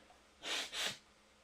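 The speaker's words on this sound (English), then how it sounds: "Need to blow my nose." Two quick, breathy nasal bursts, close by and fairly soft, like someone blowing their nose, then quiet.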